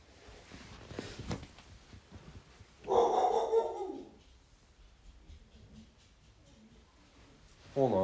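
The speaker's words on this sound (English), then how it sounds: "So you might hear a barking dog in the background." A dog barks outside in the background, a brief muffled burst of barking in the middle and another at the very end, distant and faint against a quiet room.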